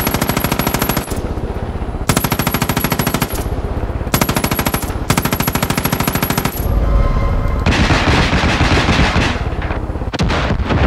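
Rapid bursts of automatic gunfire in a video game, loud and close, with several long rattling volleys separated by brief pauses, then a rougher noisy stretch of continued firing.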